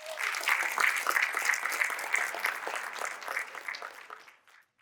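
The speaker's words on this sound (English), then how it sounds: "can we have a huge round of applause for Fred" Applause from a symposium audience swells into a broad sustained clapping for several seconds, then fades and stops near the end.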